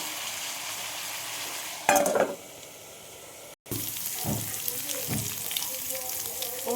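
Beetroot frying in a pan, a continuous close sizzle broken by a burst of stirring near the start, a brief cut, then more scraping stirs over the hiss.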